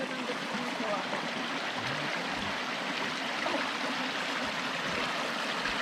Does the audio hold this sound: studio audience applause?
no